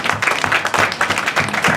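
Brief burst of clapping from a crowd at a Virgin of Guadalupe feast-day celebration, irregular hand claps lasting under two seconds.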